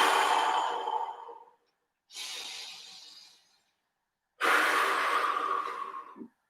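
Three long, deep breaths in a breathing exercise, loud and close, each a rushing airy exhale or inhale separated by short silences.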